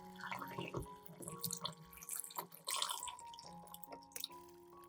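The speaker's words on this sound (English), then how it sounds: "Pour clean water into the basin." Water trickles and splashes into a basin of tomatoes, a soft, quiet pouring with small drips and no voices.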